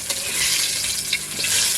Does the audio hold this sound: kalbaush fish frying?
yes